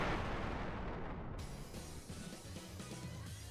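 Cluster missiles explode in a shoot-'em-up video game as a dense, continuous roar of overlapping blasts, loud and unbroken throughout.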